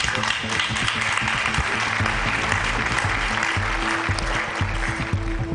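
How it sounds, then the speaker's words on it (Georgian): Studio audience on a television quiz show applauds steadily as a guest leaves, a thick run of clapping under a rhythmic musical beat, fairly loud throughout. "გავაცილოთ აპლოდისმენტებით."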